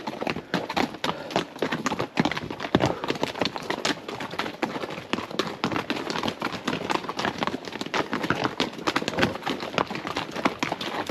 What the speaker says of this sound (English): There's some horses coming through.